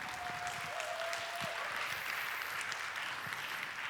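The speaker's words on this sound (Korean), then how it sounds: "여러분 박수로 환영해 주시죠." Audience applause at the launch ceremony of a citizens' council in Chuncheon, welcoming the committee chair; steady, moderately distant clapping from a crowd continues throughout, with a faint tonal whine at the start.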